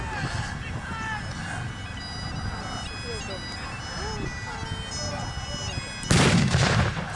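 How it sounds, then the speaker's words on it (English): Mortar fire at a battle reenactment at Sedgefield comes as one sudden loud blast near the end, following a long stretch of steady outdoor ambience with birdsong and a distant murmur. "Some more mortar fire being brought in."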